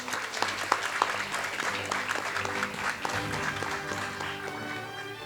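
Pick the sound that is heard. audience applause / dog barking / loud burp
audience applause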